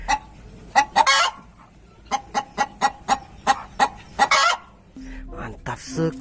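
A hen gives a run of sharp, close clucks in uneven bursts, some doubled or stuttered, with a short squawk near the end, alone without talk.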